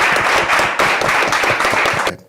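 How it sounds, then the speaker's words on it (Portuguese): An audience at a talk event applauds, with dense, steady clapping from many hands at close range that cuts off sharply at the end. "Eu queria pedir uma salva de palmas para eles todos."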